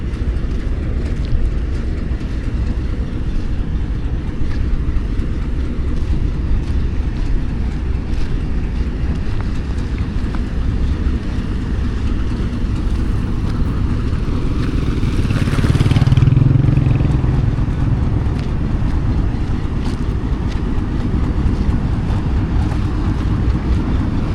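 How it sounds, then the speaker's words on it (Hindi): The Khushhal Express locomotive turns at Attock City Junction on a hot day, giving off a continuous low diesel rumble mixed with wind buffeting that swells briefly midway. "दोबारा से एक बार फिर से खुशहाल का जो लोकोमोटिव है वो टर्न हो रहा है"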